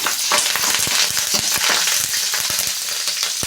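Chopped onions, green chillies and a little salt sizzle in a hot pan while being stirred, a steady crackling fry broken by regular sharp scrapes and taps of a spoon against the pan, close and fairly loud.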